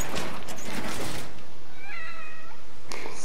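A cat meows with a drawn-out, wavering cry in The Evil Within video game, a single clear call standing out over a dense, noisy game backdrop, with no talk.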